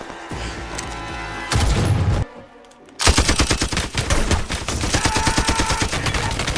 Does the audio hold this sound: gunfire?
yes